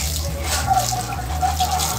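Water runs steadily at a laundry sink that is being plumbed to a PVC drain, giving a continuous close splashing hiss for the whole stretch with no talking.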